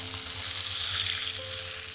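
Fried coconut pieces sizzle steadily in hot oil for a Kerala-style breadfruit curry, a dense continuous crackling hiss, close and fairly loud, with no voices.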